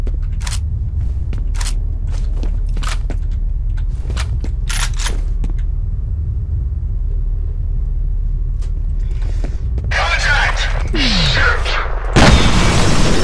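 Shotgun blasts in the F.E.A.R. shooter game, a series of sharp, heavy reports spaced about a second apart over a low rumbling background, then a denser cluster of louder impacts toward the end.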